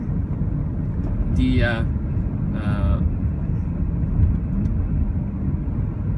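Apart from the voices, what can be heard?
driving a front-wheel drive Volvo XC90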